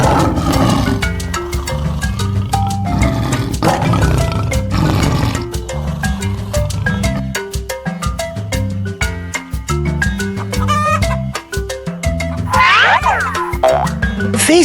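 A lion roars amid loud, busy children's music with springy boing effects, the roar blending into the steady musical backing.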